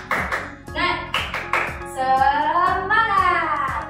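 Several quick bursts of rhythmic hand clapping in a patterned beat, with children's voices chanting and calling out over the claps, during a lower-grade elementary school lesson.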